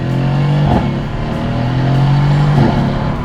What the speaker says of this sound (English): The sound it makes while using the paddle shifters is beautiful.